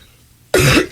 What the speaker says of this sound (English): I go in and out of these fits of cough, and it's really disgusting.